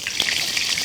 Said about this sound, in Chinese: 7成油温下切好的猪肉，高油温下锅它才不容易粘锅啊。